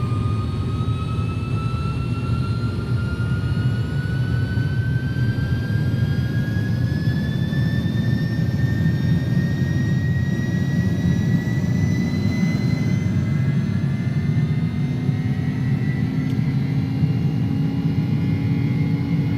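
Simulated Airbus A300-600 jet engines roar steadily at takeoff power in X-Plane 11, a continuous loud rumble with a rising whine that builds gradually through the run, with no talk.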